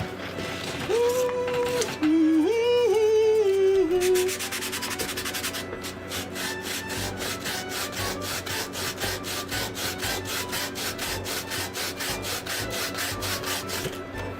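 Sandpaper sanding a wooden King of Red Lions boat model, a fast run of close, even back-and-forth rasping strokes. Talk and a brief melodic tone come first, then the scratching continues alone.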